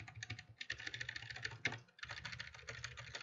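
Rapid, irregular keystrokes clatter on a computer keyboard during an online game session, quiet and close, with a brief pause midway and no talk.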